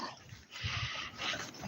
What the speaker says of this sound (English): Here's my dogs.